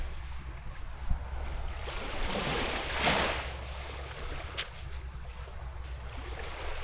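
Sea waves wash onto the shore at a beach in San Antonio, Zambales, a broad hiss of surf with one swell rising and falling near the middle, backed by a light wind rumble.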